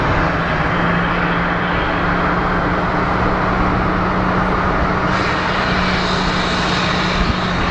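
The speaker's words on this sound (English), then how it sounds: "And we have Southwest 3225 coming from Albuquerque" Southwest airliner arriving from Albuquerque at Phoenix Sky Harbor International Airport, a loud, steady engine roar filling the whole stretch with no break.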